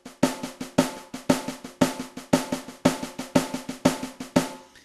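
Drum kit playing an eighth-note triplet double bass shuffle, with steady, even rhythmic hits repeating through the passage; loud and close, with no talking.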